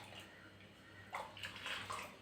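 Water splashes and runs while a mixer grinder lid is rinsed in a kitchen, close and moderately loud, with a few brighter splashes toward the end.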